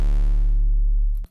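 An 808 bass note shaped by DriveShaper distortion on the mids, a single deep sustained boom with a gritty harmonic edge that fades and then cuts off sharply with a brief click.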